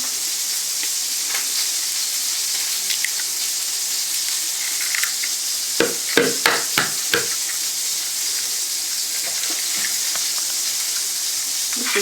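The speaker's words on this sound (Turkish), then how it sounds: "Ben iki paket kullandığım için iki tane yumurta kırıyorum içine." Two eggs cracked into cooled noodles: a handful of sharp taps and cracks bunched together midway, over a constant soft hiss, with quiet stirring sounds before and after.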